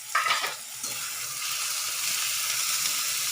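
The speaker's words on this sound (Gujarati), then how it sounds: "ટમેટો નાખીને સરસ સાતરી લેવાનું છે" Tomatoes and cabbage sautéing in a pan for street-style masala Maggi, a steady close sizzle and crackle with stirring scrapes near the start, continuous and fairly loud with no talking.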